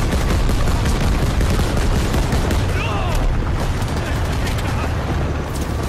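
Loud, relentless machine gun fire and booming battle noise from Call of Duty: WWII at the Battle of the Bulge, continuous and dense from start to finish, with a voice heard talking over it.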